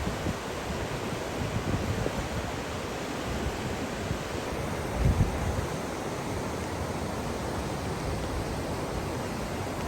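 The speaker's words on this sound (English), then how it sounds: "I'm actually right next to a river because I can actually hear it" A rain-swollen river rushes beside a mountain campground, a constant broadband roar of flowing water that fills the whole stretch evenly, with no voices.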